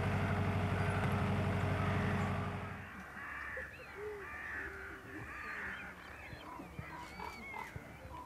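Several crows caw repeatedly at a distance, their harsh calls scattered over a steady outdoor hum that is loud at first and then drops away.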